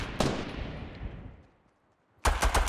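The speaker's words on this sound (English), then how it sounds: "I just heard gunshots." Bursts of rapid gunfire crack loudly in Fortnite, one at the start and a longer volley at the end, separated by a fading echo and near silence.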